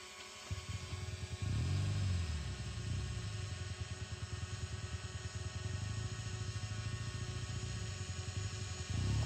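A BMW motorcycle's engine runs steadily through a cone course at a BMW Trophy Challenge qualifier event, a constant droning buzz with a brief rise in revs early on, heard from a moderate distance.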